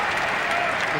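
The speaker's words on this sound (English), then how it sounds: "The crowd lifting them." A large stadium crowd at an AFL football match at the Gabba roars in a dense, sustained wash of cheering, with a commentator talking over it.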